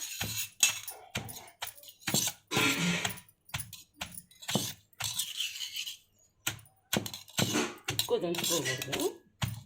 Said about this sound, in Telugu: చికెన్ ముక్కల్ని బాగా దంచుకోవాలా